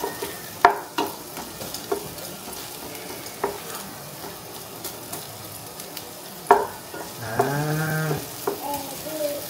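Food frying in a pan at home, with sizzling under repeated sharp clanks and scrapes of stirring, and a brief animal-like bleat near the end.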